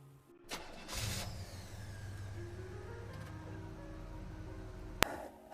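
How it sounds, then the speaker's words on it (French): A taxi's engine cranks and catches, then runs at a steady mid-pitched idle and rumble as the car pulls away, close by, ending in a sharp click and a rising noise. "Le taxi démarre."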